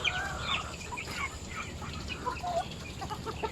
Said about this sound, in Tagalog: Papainom naman tayo ng manok.